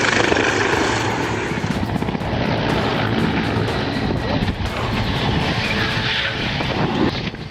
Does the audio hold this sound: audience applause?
no